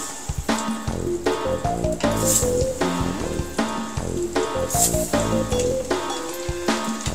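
Horse mackerel fries in hot oil in a pan, crackling and sizzling close by in a loud, continuous spatter with repeated bursts of popping and hissing, no speech heard.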